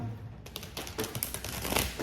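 Tarot cards being shuffled by hand, a busy run of crisp riffling clicks and soft flutters that rises and thickens across the clip, close and fairly quiet with no talking.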